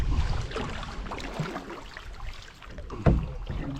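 Canoe paddle strokes feathering through the water on a lake day trip, a steady wash of splashing and dripping with a sharper slap of the blade near the end, close and continuous.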